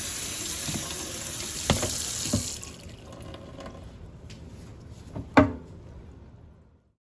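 Cold water runs hard from a kitchen tap into a sink, a bright rushing stream for about three seconds, then cut off, leaving a few drips, clunks and a soft splash before quiet.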